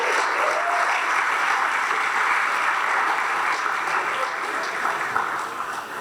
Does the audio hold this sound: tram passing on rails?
no